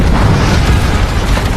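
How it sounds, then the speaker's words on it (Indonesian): A ship blows up from a planted bomb, a massive, loud blast that roars across the full range and holds at full force for over a second before cutting off abruptly. "kapal itu langsung meledak"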